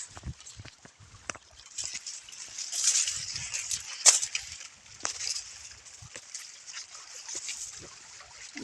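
Borewell water runs through channels in a sugarcane field, a soft continuous trickle with scattered splashes and rustles, faint and fairly close, with no clear talk.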